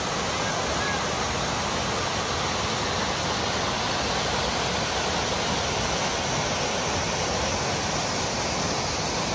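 Water cascading down steep steps on an outdoor adventure trip, a loud, unbroken rushing roar that stays close and constant from start to finish.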